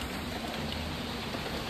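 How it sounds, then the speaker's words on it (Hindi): Steady rain falling outdoors in cool weather, a continuous even hiss of drops on surfaces with no voices, fairly soft and constant throughout. "और इधर बारिश भी दे रहा है"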